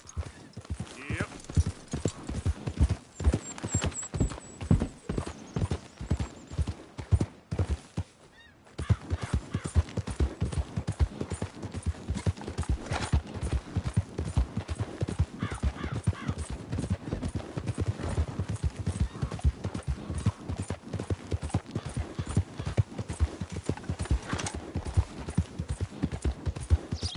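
Horse hooves galloping in Red Dead Redemption 2, a fast, steady rhythmic pounding of hoofbeats running nearly the whole time, briefly cutting out once before resuming, loud and close with faint ambient sound beneath.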